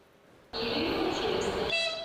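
An evacuation train arrives at Dnipro railway station: after a quiet moment a loud, sustained rumble and horn-like tone set in suddenly and carry on steadily, with higher tonal sounds near the end.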